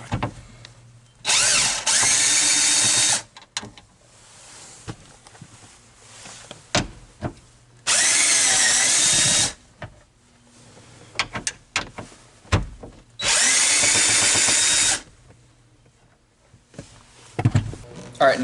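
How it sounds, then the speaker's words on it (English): An 8mm socket on a power tool removes bolts from the rear seats of a 2001 Mustang Cobra, three loud sustained whirring bursts about two seconds each with clanks and handling noises between them. "So now we have our 8mm socket. We're going to take the bolts out of the back part."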